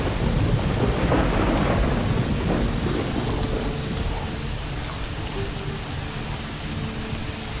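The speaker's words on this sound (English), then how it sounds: "All the koalas can do is sit out the storm." A thunderstorm pours heavy rain in Australian koala habitat, a dense steady roar of rainfall with rumbles of thunder early on, loud and continuous throughout.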